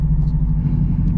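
A 2002 Subaru WRX wagon on the move, heard from inside as a loud, steady low engine and road rumble with no break.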